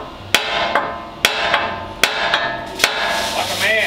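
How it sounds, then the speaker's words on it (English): Four sharp, ringing hammer blows on a metal casting with a cone fitting, spaced about a second apart, with a mechanical squeal rising near the end. "hit this this casting right here with a larger hammer"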